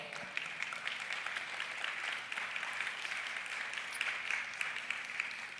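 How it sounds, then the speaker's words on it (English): An audience at a business franchising event applauds steadily and evenly for several seconds. The sound is soft and distant, with no voices standing out. "So give yourselves a round of applause."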